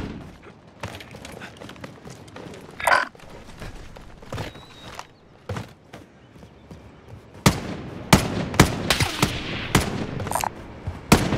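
Gunfire in the video game Call of Duty Warzone, with scattered shots early on and a run of loud, sharp bursts cracking in quick succession near the end.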